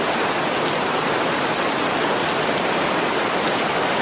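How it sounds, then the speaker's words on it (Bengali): A storm brings heavy rain that pours as a dense, steady roar. It stays loud and even throughout, with no voices. "অনেক ঝড় বৃষ্টি শুরু হয়।"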